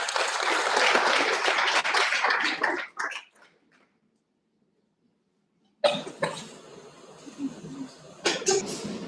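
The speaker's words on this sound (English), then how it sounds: "Please, a round of applause for them." Conference audience applauds in a dense burst for about three seconds, falls to near silence, then more scattered clapping and shuffling return, with a cough or two mixed in.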